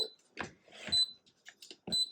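A pressure cooker set to steam gives a few short, high electronic beeps among faint kitchen clatter and soft handling noises, with brief gaps between them.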